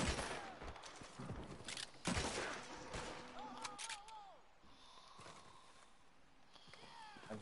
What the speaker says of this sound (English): It's a Gatling gun? Yeah, they have one.